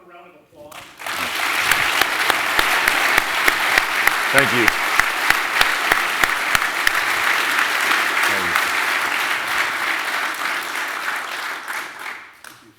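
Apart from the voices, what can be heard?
audience applause for a guest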